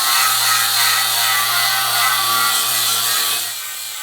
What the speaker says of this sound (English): I've been busy grinding all these beams down